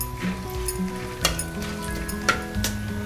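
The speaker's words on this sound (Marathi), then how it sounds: "तर इथे आपलं तेल गरम झालेले, तर आपण खडे मसाले घालूया।" Whole spices hit hot oil in a pan for a veg pulao, giving a steady close sizzle and crackle with a few sharper pops, no talking.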